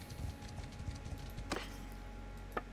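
Horse hooves clip-clop at a steady rhythm in the medieval video game Mount & Blade II Bannerlord, the rider mounted on a Cossin horse; the thudding hoofbeats sit close and even, with a couple of sharper clicks among them and no talk.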